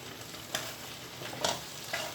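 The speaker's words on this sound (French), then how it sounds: "Je mélange mes légumes." A utensil stirs vegetables and tomato in a pan for ratatouille, giving a few scraping strokes over a steady background sizzle.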